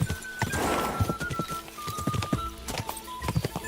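Horse hooves clip-clopping steadily at close range in the medieval game Kingdom Come: Deliverance, a brisk rhythmic gait with a faint whinny-like tone and little or no talk over it.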